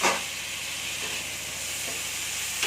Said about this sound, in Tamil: தக்காளி நல்லா வெந்து வரணும் அது வரைக்கும் நல்லா வதக்கிக்கலாம்